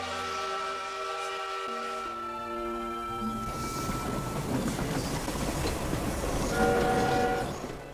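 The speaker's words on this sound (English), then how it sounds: "Madame Julie is on the CHOO-CHOO train and will be arriving shortly" A toy train arrives in the Infinity Nikki video game: a sustained horn-like whistle tone gives way to a swelling rumble and clatter of wheels that grows louder toward the end.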